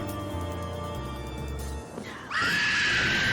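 A boss in Final Fantasy XIV lets out a shrill, strained scream that starts abruptly partway through and holds loud to the end, over game music.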